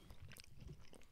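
Someone chews a dry chocolate chip cookie close to the microphone, soft crunching and squishy mouth sounds, faint and brief.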